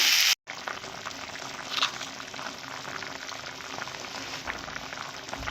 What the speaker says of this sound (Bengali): এরপর জল দেবো